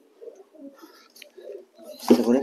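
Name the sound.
pigeons cooing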